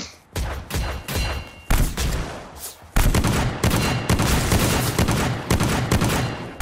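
Rapid bursts of gunfire from the top-down battle royale game Surviv.io, dense volleys that pause briefly and then return louder and more sustained, with no talking.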